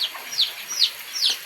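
Chickens being fed on a cold day cluck in three short, evenly spaced calls. The calls are clear and close, with no talking over them.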